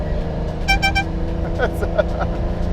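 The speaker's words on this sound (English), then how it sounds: "From a horn from an Italian car, air horns." The air horn of a 1985 Lamborghini Countach 5000QV toots in a quick run of short, bright beeps over a steady engine rumble, followed by a few more scattered honks.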